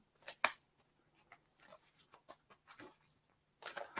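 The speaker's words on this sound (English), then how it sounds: "A lot of shuffling going on." Tarot cards being shuffled: soft, irregular riffling and patting bursts, quiet and close, with short pauses and a louder flurry at the end.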